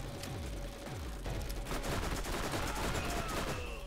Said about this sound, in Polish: jeszcze jeden strzał